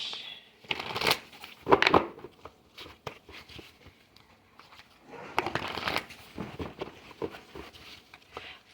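Tarot cards being shuffled in quick riffling bursts, close up, with a pause in the middle before another stretch of shuffling and soft handling.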